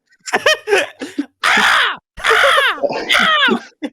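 A person mimics crow caws, a series of harsh, nasal squawks in irregular bursts, loud and close.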